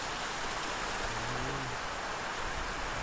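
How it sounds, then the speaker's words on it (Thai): Rain falling in the first downpour of the year after a long dry spell in rural Thailand, a steady even hiss throughout, with a brief low tonal sound in the middle. "ฝนตกแล้วเด้อพี่น้อง"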